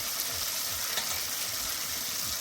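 Cabbage pieces for a Kashmiri-style cabbage dish go into a hot pan and fry with a steady close sizzle and faint stirring rustles, no voices.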